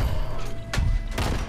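Two sharp gunshots from the video game Fallout 76, short bursts close together over a low background hum.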